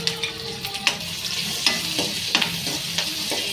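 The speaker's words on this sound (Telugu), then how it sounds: "ఇదంతా మంచిగా నూనెలో వేగేదాకా వేపుకోవాలి" Green chillies and ginger fry in hot oil in a pan as the cook stirs them, with a close, steady sizzle and repeated light clinks and scrapes of a spoon. No one speaks.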